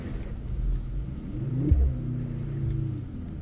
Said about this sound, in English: Straight back into the drift again.